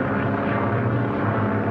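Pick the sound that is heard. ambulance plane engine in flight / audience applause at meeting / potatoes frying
ambulance plane engine in flight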